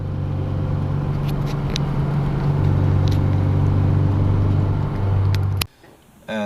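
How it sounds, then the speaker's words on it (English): A Peugeot 205 1.9 Rallye, fitted with new driveshafts and wheel bearings, drives along under a steady, close engine drone with road rumble and a slight rise in revs. The sound stops abruptly near the end. "Give it the gas a little"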